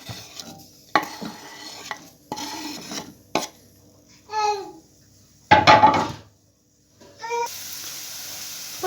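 Onion dropped into hot oil in a pot, with bursts of sizzling and stirring scrapes in irregular spurts, separated by brief quiet gaps, fairly close and loud.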